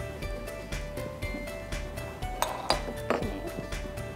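A white ceramic bowl handled in a kitchen, giving a run of light, bright clinks and taps against other dishes, close and fairly quiet.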